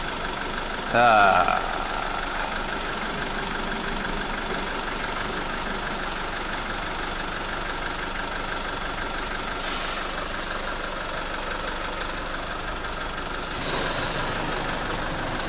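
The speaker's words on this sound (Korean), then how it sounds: "자, 일단 시동을 걸었습니다." A SsangYong All New Rexton engine idles steadily just after starting, a continuous low mechanical hum throughout, with a brief spoken word near the start and short hissing bursts partway through.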